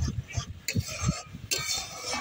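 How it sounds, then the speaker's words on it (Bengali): A spoon stirs and scrapes through a mango jelly mixture in a pan, with soft irregular strokes and light clinks of utensil against metal, close and fairly quiet. "এইভাবে নাড়তে থাকবো সব কিছুকে একসাথে"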